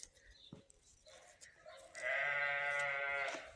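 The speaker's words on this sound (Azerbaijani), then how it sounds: "Yoldan qoyunlar gedir." Sheep passing along a road bleat a few times, faint and distant at first, then one loud, drawn-out bleat rises close by; background is otherwise quiet.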